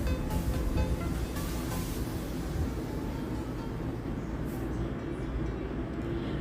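Inside a passenger train riding from Riyadh to Hail, a steady low rumble and hiss of the moving carriage fills the space, fairly quiet and continuous with no talking.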